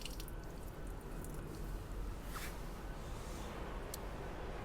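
Excess water drains out of the pipework drain valve beneath a 2009 Burstner Delphin T821 motorhome, a steady hissing trickle that runs evenly and close for the whole stretch, with no voices.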